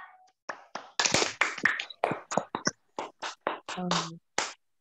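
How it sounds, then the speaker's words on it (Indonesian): A series of sharp, rhythmic scout hand claps (tepuk pramuka) in a patterned sequence, close and crisp, with short pauses between groups and a brief voice near the end. "Sekali lagi, tepuk pramuka."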